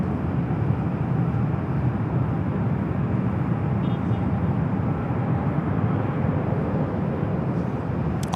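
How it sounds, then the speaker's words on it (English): An ANA Boeing 787 Dreamliner bound for Tokyo Narita rolls down runway 24 left at Los Angeles International Airport, a steady, moderately distant jet roar that stays even and continuous. "the Dreamliner heading back to Tokyo Narita, rolling down the 24 left."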